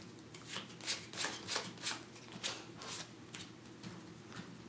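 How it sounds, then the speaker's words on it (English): Playing cards are handled and shuffled during a Vanguard trading card game, with a series of quick, soft riffling and flicking bursts in an irregular rhythm, close and fairly quiet. "Check the top 5 cards of a deck."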